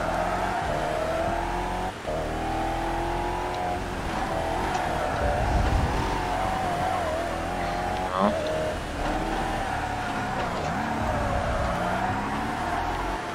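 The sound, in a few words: race car skidding doughnuts in video game Toca Race Driver 3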